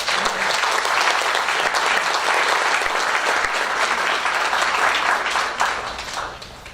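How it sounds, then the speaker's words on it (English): A board meeting audience gives student representatives a dense, steady round of applause that holds strong and then tapers off in the final seconds. "We can go ahead and give them a round of applause."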